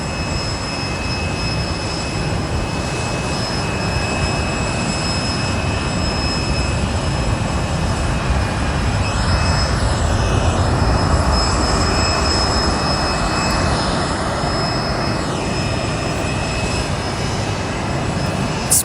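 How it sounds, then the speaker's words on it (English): An American Airlines Boeing 737-800 on its takeoff roll at the Boise airport, a loud steady jet engine roar with high whine filling the air continuously, building slightly in the middle. "we have the American 737-800 heading out to Dallas, Fort Worth today. It's again a 4-hour flight on takeoff roll"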